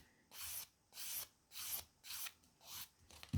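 220-grit sandpaper rubs over filled drainage holes in five even, raspy back-and-forth strokes, each a short scratchy burst separated by brief pauses, close and fairly quiet, with no voices.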